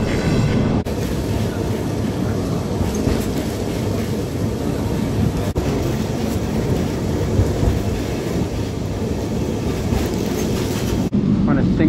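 Lisbon's tram 28 climbs uphill into Alfama on a single track, giving a continuous heavy rattling rumble with clanks and a noisy broadband roar, steady and loud for the whole stretch.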